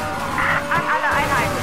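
A car in the video game Mafia III skids, its tires squealing in a wavering, loud wail with engine rumble underneath for about a second and a half.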